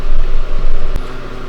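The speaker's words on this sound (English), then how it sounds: "sorry about the fan noise" A fan screaming loudly in a sunny workshop during a drill project, a steady continuous whir with one brief knock partway through.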